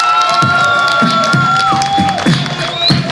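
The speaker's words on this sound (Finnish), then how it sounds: "Annetaan Ruokosella aplodit ensimmäinen!" Crowd cheering and shouting at a hip hop festival open mic in Seinäjoki, whoops and raised voices riding over a steady beat with a sustained tonal line, lively and close.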